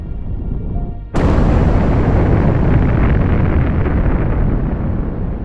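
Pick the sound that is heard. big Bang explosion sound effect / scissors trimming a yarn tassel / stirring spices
big Bang explosion sound effect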